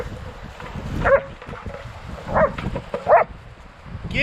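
Kenzo the dog plays wildly with something on a beach, with short yips and whimpering growls breaking through a steady rush of surf and wind at close range.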